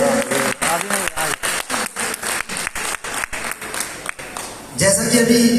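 An audience at a stage program claps in a loud, rhythmic burst, with regular pulses fading toward the end before a sustained noisy swell takes over.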